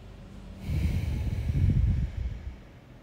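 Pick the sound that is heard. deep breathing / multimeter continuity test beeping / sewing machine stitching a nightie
deep breathing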